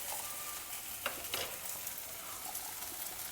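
Brinjal frying in a heavy pan gives a steady soft sizzle throughout, with a few brief stirring scrapes near the middle and no voices.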